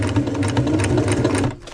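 A sewing machine stitches over the original seam of a Panacea 2 tent during a repair, a loud, close, continuous motor hum and rapid needle chatter that dips briefly near the end.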